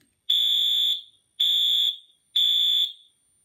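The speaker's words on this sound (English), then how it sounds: "I'm going to go ahead and set off this older Wheelock AS." Older Wheelock AS fire alarm horn strobe set to medium volume sounds three loud, piercing electronic horn blasts of about half a second each, evenly spaced with short gaps and a faint clicking between them.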